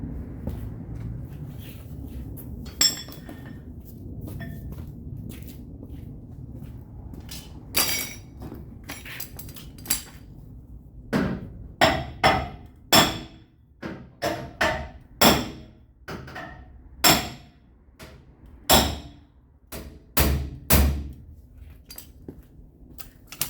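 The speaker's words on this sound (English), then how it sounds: "I'm going to level it with a dolly hammer." Hammer and dolly work on a dented Dodge Ram rear quarter panel: a low rumbling scrape of handling, then a run of sharp, ringing metal taps at an uneven pace, close and loud, each strike bright and quickly decaying.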